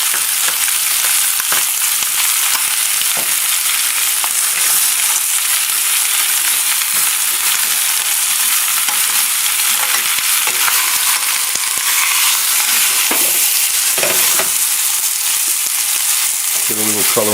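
Stuffed veal breast sears in a hot pan with celery and bay leaves, giving a loud, continuous sizzle and crackle with occasional stirring and scraping noises.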